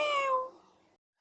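A person imitates a cat with a single drawn-out, falling meow, clear and close, followed by a brief pause and a short vocal sound at the end.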